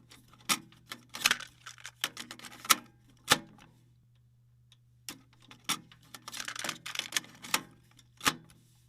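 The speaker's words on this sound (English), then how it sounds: "You hit the eject button and it flips open. You turn it around and drop it down in there and click it back in place and push play." Sharp plastic clicks and clacks as a cassette tape is ejected, flipped, dropped into a Walkman player and snapped shut, a series of distinct close taps spaced by brief silences over a steady low hum.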